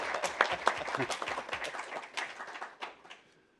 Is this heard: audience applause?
yes